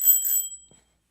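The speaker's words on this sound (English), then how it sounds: "Have a hype train bicycle bell." A bicycle bell plays as a stream alert effect: two quick bright rings that fade out within about a second, then near silence.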